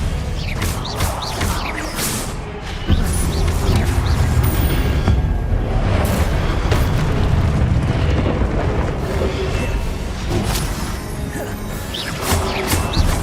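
Repeated Confringo fire spell blasts from the video game Hogwarts Legacy, dense crashing explosions and booms rolling almost continuously, loud and close, with no talking.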